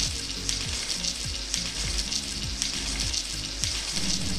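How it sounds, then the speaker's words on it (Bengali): Gobindobhog rice and raisins frying in ghee give a steady, dense sizzle that crackles like rain, with a low repeating scrape of stirring underneath, close and continuous throughout. "গোবিন্দভোগ চাল আর কিশমিশ ঘিয়ের মধ্যে ভালো করে ভেজে"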